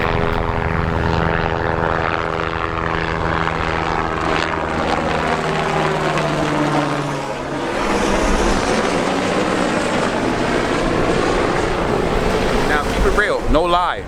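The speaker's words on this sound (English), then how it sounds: "that helicopter was flying low over the beach" A helicopter flies low over a beach, its loud rotor and engine drone passing close with a shifting pitch, a voice speaking briefly over it.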